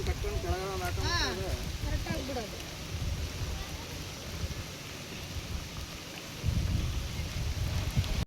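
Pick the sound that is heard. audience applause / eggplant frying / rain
rain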